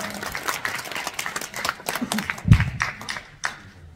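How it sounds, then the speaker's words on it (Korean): Applause at a badminton club's 32nd anniversary ceremony: a crowd claps in scattered, uneven bursts, peaking in a louder flurry partway through before thinning out. "네, 박수 주세요."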